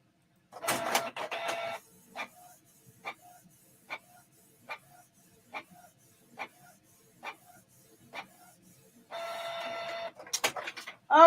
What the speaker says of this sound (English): Print nozzle check.